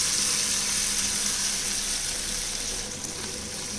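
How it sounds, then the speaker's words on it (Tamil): Water being added to a tomato kurma cooking in a pan, a continuous loud pouring hiss with a faint sizzle that eases slightly toward the end. "குருமாவுக்கு தேவையான தண்ணி விட்டுக்கலாம்."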